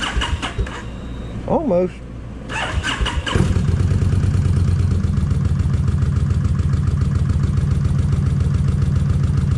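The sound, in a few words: Kawasaki Vulcan 1600 motorcycle engine starting and idling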